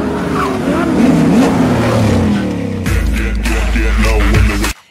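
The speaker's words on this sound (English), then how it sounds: "It's none other than the Bugatti Veyron, the epitome of automotive engineering and luxury" A Bugatti Veyron hypercar from a Fast and Furious film revs hard, its engine note sweeping up and down. It roars loudly close by before cutting off abruptly at the end.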